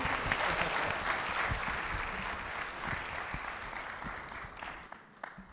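A business pitch competition audience gives sustained applause, a dense wash of clapping that holds steady and then tapers off near the end, with a few scattered claps left.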